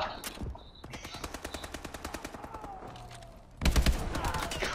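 Automatic gunfire in the shooter game Call of Duty: Advanced Warfare, a rapid, evenly spaced stream of sharp shots with a few louder bursts, close and sustained before a heavier burst of fire near the end.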